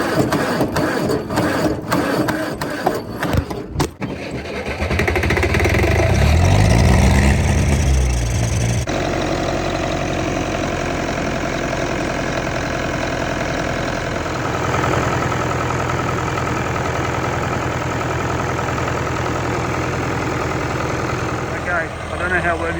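An International AW7 tractor engine chugs at a steady idle, knocking rhythmically and unbroken; a person speaks briefly near the start over the engine.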